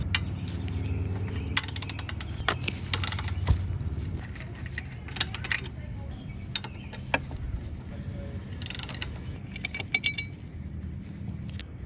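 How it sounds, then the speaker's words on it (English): A ratchet backs out two 13mm bolts holding the lower cover on a 2012+ Harley-Davidson V-Rod: a run of close clicking pawl strokes alongside jangling metal and clanks, with no talk. "Now we can remove these two 13mm bolts that hold this lower cover on."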